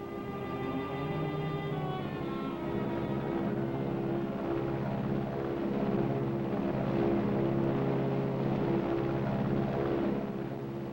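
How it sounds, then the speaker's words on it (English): Continuous droning hum of an airplane engine, steady and moderately loud, with tonal whines that shift slightly as it passes. "Sounds like the plane."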